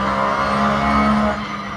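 A Porsche GTR race car in the Assetto Corsa racing game gives a sustained engine drone with a faint tire squeal. It sounds loud and close, and no one talks.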